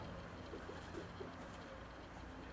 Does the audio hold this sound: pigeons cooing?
yes